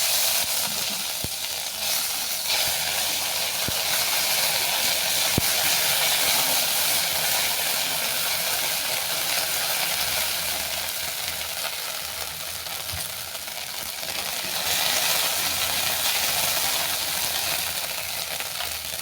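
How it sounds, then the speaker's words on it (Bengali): Ginger paste frying in hot oil just after a five-spice tempering for an elephant-foot yam and catla fish curry, giving a loud, continuous sizzle and hiss that runs throughout, with faint stirring scrapes and no voices. "ফোড়ন ভেজে নেওয়ার পর দিয়ে দিচ্ছি আদা বাটা।"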